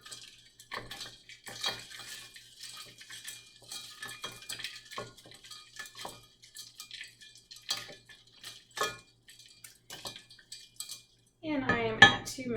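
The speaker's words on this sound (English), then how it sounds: "I'm going to go ahead and stir." Boiling water stirred in lab glassware: a run of small clinks and scrapes at a steady rhythm, close and fairly quiet, ending in a brief louder swirl.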